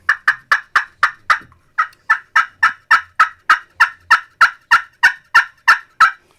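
A hand-held turkey-hunting call imitates a wild turkey with a loud, close run of about eighteen sharp, evenly spaced yelps, a short pause breaking the rhythm after the first six, and no talking.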